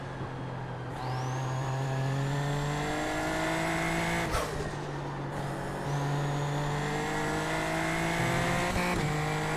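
Super Formula Lights race car in iRacing at Sebring, engine whining high and rising through the gears with two sharp upshifts, loud and steady near the cockpit, no voices.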